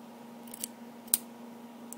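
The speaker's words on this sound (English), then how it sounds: "Oops, scissors are getting dull." Dull scissors trim thread on a small beaded alligator craft, giving a few faint, close snips spaced apart over a quiet steady hum, with no voices.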